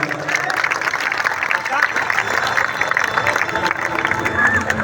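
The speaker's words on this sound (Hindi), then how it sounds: "मैं चाहूंगा एक बार जोरदार तालियों के साथ" Crowd clapping and cheering at a devotional bhajan gathering, dense and continuous, mixed with general hubbub from the audience.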